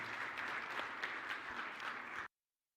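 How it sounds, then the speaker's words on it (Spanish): Church congregation claps in steady, dense applause after a prayer at a Spanish-language service, continuing evenly for about two seconds before cutting off abruptly into silence. "Démosle un aplauso al Señor, mis hermanos."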